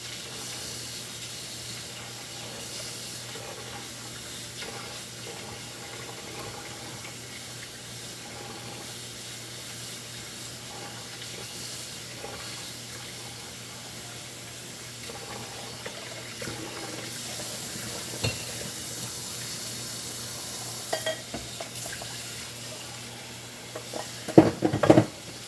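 Rice rinsed under a running kitchen tap, a steady low rush of water into a sink with soft swishing and a few louder splashes and clatters toward the end.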